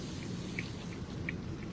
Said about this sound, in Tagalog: Ang lakas na ng ulan ng yelo.